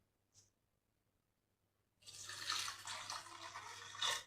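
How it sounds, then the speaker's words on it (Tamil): Water poured onto washed moong dal in a vessel makes a steady splashing, trickling stream for about two seconds after a faint early drip, close and moderately loud with no talk. "பாசிப்பருப்பு முங்குற அளவுக்கு தண்ணி விடுறோம் பாருங்கள்"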